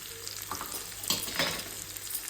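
Spring onions sizzle and fry in a pan while egg rice is being made, a steady hissing crackle with a few stirring scrapes, close and continuous, with no talk.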